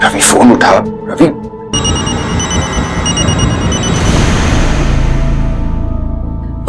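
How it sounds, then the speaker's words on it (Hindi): Voices talk briefly, then a telephone starts ringing loudly and keeps ringing without a break. "रवि फोन उठा।"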